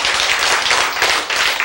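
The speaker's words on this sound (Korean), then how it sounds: "박수 한번 쳐줘." An audience at a lecture claps briefly, a short burst of dense, overlapping hand claps at moderate loudness with no talking over it.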